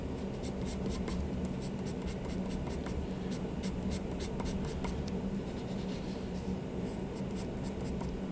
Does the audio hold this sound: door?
no